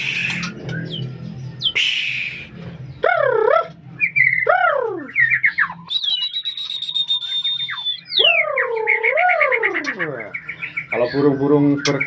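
Songbirds at a large bird breeding center in Indonesia give a lively run of whistles, trills and sweeping chirps, fairly close and continuous, with a low murmur of talk underneath.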